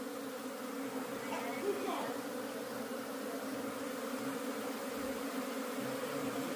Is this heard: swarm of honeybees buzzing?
yes